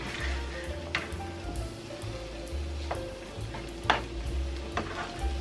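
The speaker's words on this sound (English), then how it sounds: "I'm just going in with my spoon and just stirring it around, just mixing everything together" A spoon stirs glazed chicken wingettes in a garlic butter tomato sauce in a hot pan. It makes a steady low sizzle with a few sharp scrapes and clinks of the spoon against the pan, heard close up with no talking.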